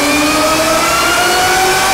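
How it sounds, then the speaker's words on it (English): Supercharged engine of a 2003 Cobra Mustang with an Eaton blower revving hard on a dyno, a loud continuous roar with rising whine filling the whole stretch, no voices. "All right, Paul, we definitely heard that Eaton working overtime, brother."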